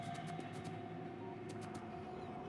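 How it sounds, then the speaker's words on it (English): A train pulls into a station in the video game Factorio, a steady low rumble and hum of rolling rail cars running continuously at moderate volume with no voices. "So the train comes here, doing stuff."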